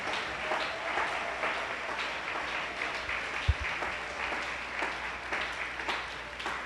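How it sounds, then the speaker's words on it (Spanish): A church congregation claps in praise during an afternoon service, a steady wash of applause held at moderate level through the whole stretch with one brief thump partway, no clear talk on top. "Dele ese aplauso al Señor en esta tarde."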